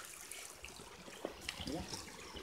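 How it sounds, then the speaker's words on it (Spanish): Clear mountain river near an old mining town in the San Luis hills, heard as a soft, steady trickle of running water at a distance, faint and continuous with no voices. "Y acá está el río. Hermoso río. Agua cristalina que nace de las sierras."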